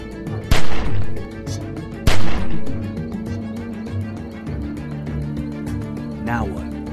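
Gunfire in The Walking Dead (Telltale) video game, two loud sharp shots about a second and a half apart over a constant game soundtrack, with a voice speaking in between.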